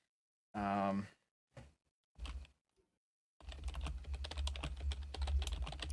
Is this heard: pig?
no